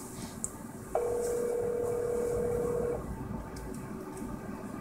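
Incoming call ringing on a phone paired with a Bangle.js smartwatch, a steady electronic tone lasting about two seconds, heard close and alone over faint background hum.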